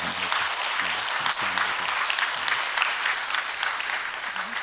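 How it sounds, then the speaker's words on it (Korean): A church congregation at a dawn prayer service applauds two church members with steady, dense clapping throughout, while a voice speaks briefly over it and faint music plays underneath. "여러분 두 분 위해서 여러분 큰 박수 부탁드립니다"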